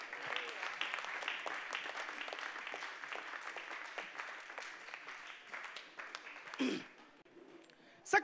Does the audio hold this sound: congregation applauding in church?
yes